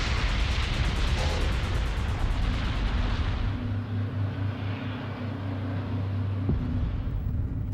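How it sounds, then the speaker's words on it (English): Explosions after an aircraft collision on a runway: a loud, sustained roaring rumble of explosion and fire, dense noise that slowly fades into a deep low drone, with a faint thud near the end. "The air traffic controllers hear the explosions"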